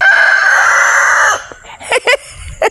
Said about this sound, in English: Y'all hear the turkey in the background?